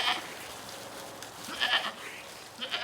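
Lambs and sheep on a winter farm give a few faint, brief bleats at a distance, scattered over a quiet background.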